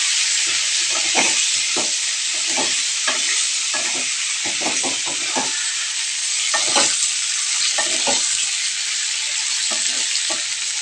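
Food frying in a pan on a home stove, a loud continuous sizzle broken by repeated scraping and clattering stirring strokes at an irregular pace, close up and with no voices.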